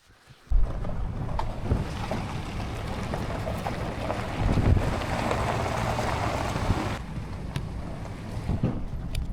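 A motorcycle rides down bumpy old logging and exploring trails, a rough continuous rumble thick with wind buffeting and knocks from the uneven ground, with no voices.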